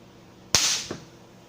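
An electrolytic capacitor at 100 volts bursts with a sharp, loud bang like a small explosion, followed a moment later by a fainter second pop, then quiet.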